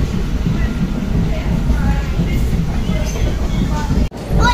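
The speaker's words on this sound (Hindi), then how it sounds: "अभी अपनी ट्रेन डिपार्ट कर रही है रामदास रेलवे स्टेशन से" A passenger train pulls out of Ram Das railway station in Punjab, heard from on board as a steady, loud low rumble and rattle of the carriages. Faint voices come through, and there is a brief dropout near the end.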